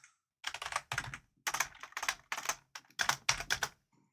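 Someone types on a computer keyboard during a writing session, with close, crisp bursts of rapid keystrokes separated by short pauses and no talking.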